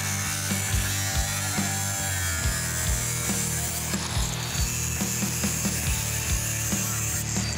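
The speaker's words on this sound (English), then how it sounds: "When cutting off body panels, make sure to keep your cutting disc really shallow" A cutting disc slicing off a rusty body panel from an abandoned Chevy Silverado truck, giving a loud continuous grinding whine with rhythmic rattling knocks, close up and without talk.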